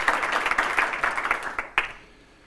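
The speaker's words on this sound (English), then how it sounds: "Please give a round of applause for Tom with the HoloLens" Audience at a HoloLens presentation applauding: a short burst of fairly faint, fast clapping that thins out and fades to near silence within about two seconds.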